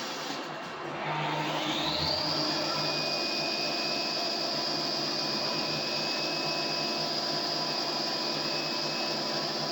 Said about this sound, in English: Now we're going to chamfer.